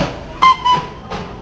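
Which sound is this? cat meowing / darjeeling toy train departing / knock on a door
darjeeling toy train departing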